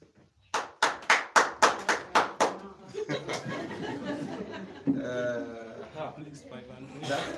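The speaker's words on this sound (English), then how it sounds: "let us clap for him" At an annual general conference, a room claps in about eight sharp, evenly spaced rounds, then the clapping breaks into loose chatter and laughter with voices talking over it.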